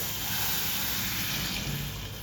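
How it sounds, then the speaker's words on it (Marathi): Water poured into a cooking pot over turmeric and sautéed masala while making Maharashtrian masvadi rassa, a steady rushing splash that fills the whole moment at close range. "आणि आता त्यामध्ये आपण पाणी टाकणार आहोत"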